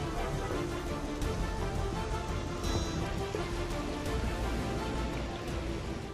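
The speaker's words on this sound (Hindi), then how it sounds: "मुंबई में लगातार 5 दिनों से तेज बारिश का दौर जारी है" Steady, dense hiss of heavy monsoon rain falling in Mumbai, a continuous wash of drops on surfaces with no voices, heard at moderate level throughout.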